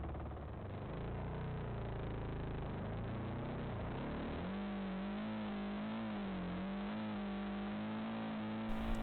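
A dual sport motorcycle in first gear on sand at Glamis strains and revs, its engine note rising and wavering continuously at close range but fairly quiet overall, never climbing very high.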